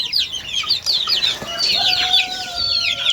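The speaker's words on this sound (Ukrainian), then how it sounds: "Цікаві курчатка." Several chickens cluck and chirp in quick, overlapping bursts, with a higher tonal call drawn out near the end; close and fairly loud, no talking.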